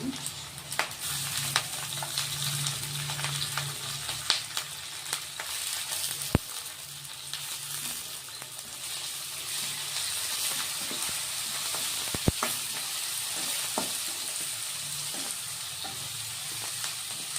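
Fenugreek leaves frying with onions in a tempering for soya chunks kurma: a continuous close sizzle with hissing crackle, punctuated by sharp clicks and scrapes of stirring, moderately loud and without talk.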